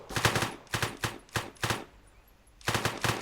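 Gunfire in the One-Armed Robber jewellery shop game, rapid bursts of automatic shots in quick clusters, a brief pause, then another burst, fairly loud and without talk.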